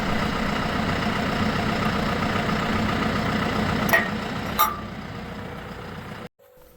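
A John Deere 6120E tractor idles with a steady low diesel rumble while a fertilizer buggy is hitched behind it, with two brief metallic clinks near the end before the sound cuts off abruptly.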